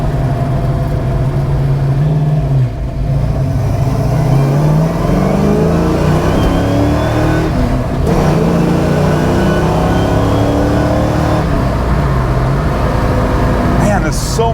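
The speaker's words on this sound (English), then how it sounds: "We're going to turn the car around so we can get another pull." A car with a 347 stroker engine accelerates hard on a pull, engine pitch climbing through the gears with brief shift breaks, loud and steady from start to finish.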